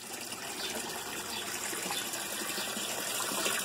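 Water gushes steadily out of a tilapia fish tank, a continuous, fairly loud splashing rush with no pauses and no talking.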